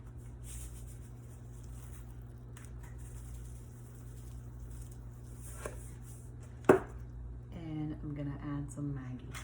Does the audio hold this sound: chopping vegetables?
yes